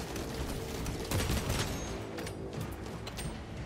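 Enemy gunfire in Space Marine 2 rattles in a dense, continuous fusillade of sharp cracks and bursts over a loud noisy game backdrop, close and intense for the whole stretch.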